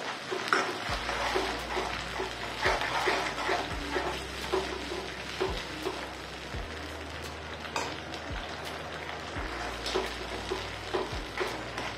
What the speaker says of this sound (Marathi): याचं तेल सेपरेट होत नाही तोपर्यंत मस्त असं परतवून घ्यायचंय।